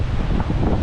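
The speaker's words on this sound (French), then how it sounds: "il y a quand même un peu de vent" Wind blowing hard across a microphone at a seaside beach in Wales, a loud continuous rumbling buffet that stays strong and unbroken throughout, with no voices.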